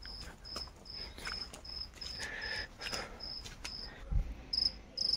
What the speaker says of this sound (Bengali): ঝিঝির আওয়াজও পাওয়া যাচ্ছে।